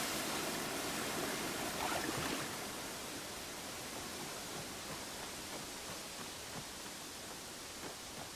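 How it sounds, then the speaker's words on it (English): A waterfall in the video game Uru: Ages Beyond Myst gives a steady, even rush of falling water that holds at the same level throughout, with no voices. "Does this waterfall lead anywhere of importance?"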